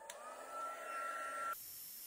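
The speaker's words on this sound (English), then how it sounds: "I'm going to warm up my heating tool." Stampin' Up! heat embossing tool set on its highest setting, blowing with a steady hairdryer-like whir and a high whine for about a second and a half before cutting off abruptly, quiet and alone.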